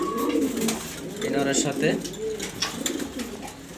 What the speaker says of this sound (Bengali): এটা নর কবুতর, এর বাচ্চা আছে উমে।